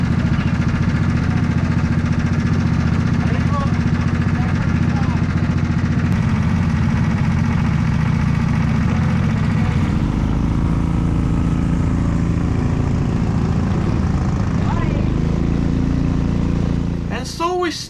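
A race car in a racing video game idles and rumbles steadily through a long circuit pit lane, a constant low engine drone that stays loud throughout, with a voice talking over it.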